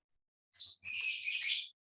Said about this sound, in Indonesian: Burung siapa itu kenceng banget?